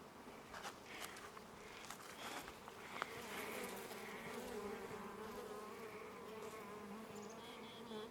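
Steady, faint buzzing of honeybees working inside a split homestead hive during an inspection, a continuous drone with a few light knocks and rustles.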